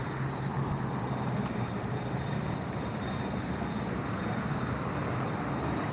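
Steady, dense roar of a Spirit Airlines jet airplane at LAX airport, heard from a distance as a continuous broadband rumble with a faint high whine running throughout.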